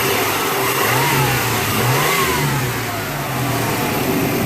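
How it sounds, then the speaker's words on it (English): A car engine revs steadily in a garage, its pitch climbing and falling in smooth sweeps over a constant low rumble, loud and close with no talk. "Rev her up a little bit."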